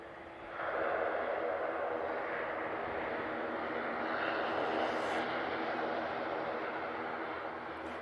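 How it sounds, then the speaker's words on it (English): A Qatar Airways Boeing 787 Dreamliner jet airliner at an airport gives off a steady, moderately distant engine roar that swells early and holds evenly throughout. "Got Logan Air, and of course this Qatar Dreamliner."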